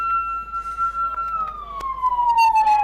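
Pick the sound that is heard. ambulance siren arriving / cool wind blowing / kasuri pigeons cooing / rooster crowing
ambulance siren arriving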